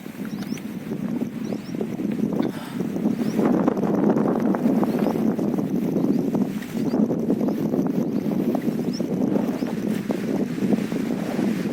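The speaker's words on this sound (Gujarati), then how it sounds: "પવન એટલો નીકળ્યો" Strong wind on a farm roars steadily into the microphone, gusting and buffeting for the whole stretch with no voices.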